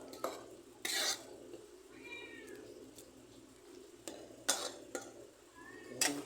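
Onions and chili powder stirred in a cooking pot of paruppu kuzhambu (lentil curry): a few loud, brief spoon scrapes, spaced apart over a quiet kitchen background, with faint high, cat-like cries in between. No one speaks.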